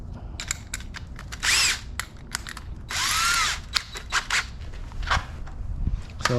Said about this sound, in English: Now we're ready to drill. I'm just using a unibit.